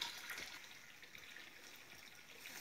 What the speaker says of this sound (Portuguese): o tanto de água que está saindo aqui